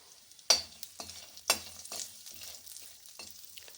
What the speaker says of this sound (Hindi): कढ़ाई में घी है, इसी में छुआरा को डाल देंगे और इसको रोस्ट कर लेंगे।